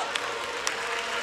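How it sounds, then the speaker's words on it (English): Church audience clapping during a praise break, a steady wash of hand claps with crowd noise and voices mixed in, brief and fairly faint. "Everybody in the audience, clap your hands and stir this thing up."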